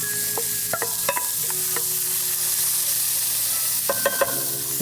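Celery and onions sizzle steadily in oil in a pan while making sausage gravy, a constant close hiss broken by a few sharp clinks and scrapes of a utensil against the pan near the start and end.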